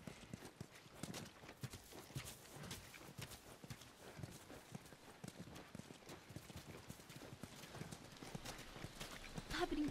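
A horse in The Last of Us plods along, its hooves making a steady, fairly quiet clip-clop that continues throughout with no talking.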